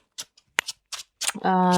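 Bursts of papery riffling as a deck of cards is shuffled, followed by a steady electronic-sounding tone at the end.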